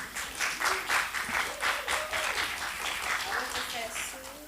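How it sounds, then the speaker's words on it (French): An audience at a school event in a collège applauds with a loud, dense burst of clapping that swells and lingers, while several voices talk and call out over it. "Allez, on les applaudit."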